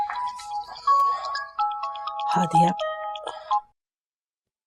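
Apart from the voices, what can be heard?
mobile phone ringing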